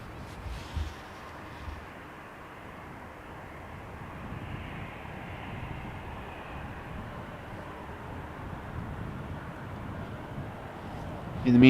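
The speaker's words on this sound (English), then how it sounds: "to my left, another Transavia 737 just landed." A Transavia Boeing 737 landing at Amsterdam Schiphol, heard as a distant, low rumbling roar that swells gently and holds steady, with a brief bump at the start and a louder close noise at the very end.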